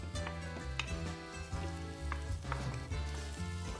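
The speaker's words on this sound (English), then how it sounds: "let's place the pancetta inside a big casserole" Diced pancetta sizzles in a big casserole on the stove, a soft, steady crackle with a few light utensil clicks over a low, constant hum.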